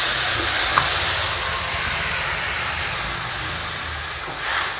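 A steady, fairly loud hiss rises as water is poured into a hot pan of Bengali prawn and taro curry, with a single brief clink near the start and no voices.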